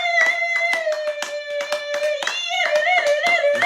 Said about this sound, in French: Acclamons plus fort pour la gloire de Dieu.